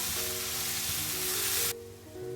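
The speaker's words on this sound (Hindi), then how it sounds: "पियाज को पूरा गोल्डन ब्राउन होला पर्यंत आम फ्राए करवा" Onions fry in hot oil in an Odia-style home kitchen, giving a dense, even sizzle that cuts off abruptly, leaving a quieter low hum.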